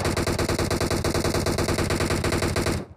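Sustained rapid automatic gunfire in the video game PUBG Mobile (Battlegrounds Mobile India), loud and close, a continuous stream of shots for about three seconds before cutting off abruptly.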